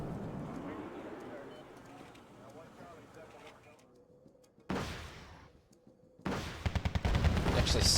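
Hornet jets firing rockets in the Wargame: Red Dragon strategy game, heard as sudden loud bursts of crackling, rapid blasts that start midway and return stronger near the end, following a stretch of rumbling battle noise.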